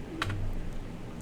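Brief burst of keystrokes on a computer keyboard while a VBA macro is written, a few quick close clicks over a quiet room with no talking.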